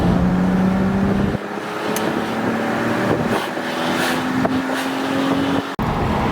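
Mercedes W202 C36 AMG with the M104 engine and a custom exhaust in worn condition, a loud, close, throaty drone whose pitch climbs in steps, with a brief dip near the end.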